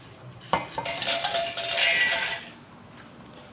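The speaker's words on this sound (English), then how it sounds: "I'll add my cornflakes into a blender" Cornflakes pour into a blender in a brief rattling, clattering rush lasting about two seconds, starting with a sharp knock and ending quietly.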